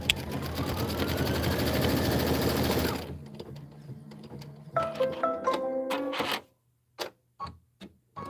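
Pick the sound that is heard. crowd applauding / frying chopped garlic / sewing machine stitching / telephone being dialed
sewing machine stitching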